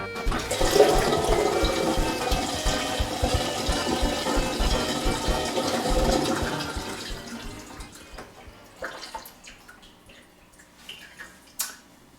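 A kitchen sink filling with water through a newly installed strainer: a loud, steady rush of running water for about seven seconds, then it tapers into quieter trickles and drips.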